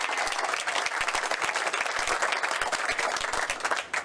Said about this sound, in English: We want to give Patty another round of applause